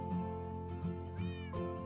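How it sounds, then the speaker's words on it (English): A cat meows in the video game Minecraft, played in the TolkienCraft modpack, giving several drawn-out, close cries over a constant background hum. "There's a cat."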